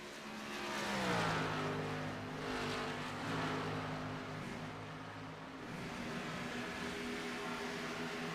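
A race car circles a track at Kentucky in a stock car racing video game, back out after a pit stop on four fresh Goodyear tires. Its engine drones steadily, rising and falling in pitch with no one talking.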